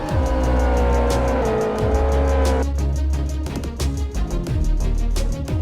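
A race car in the Live for Speed racing game brakes hard into a turn, engine note dropping sharply through downshifts while tires squeal; loud, continuous and close, with engine revs rising again after the corner.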